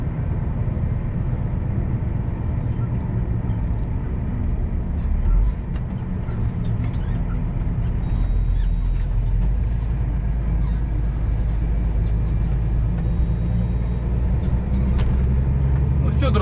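Inside a car on a road near the village of Tavernelle in the Vicenza area of Italy, a continuous low engine and road rumble is heard, with two brief bursts of beeping tones partway through.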